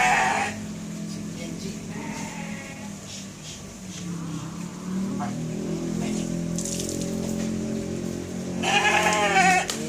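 Sheep bleat repeatedly over the ten seconds on a farm, with loud calls near the start and a strong burst at the end, mixed with people talking and background noise throughout.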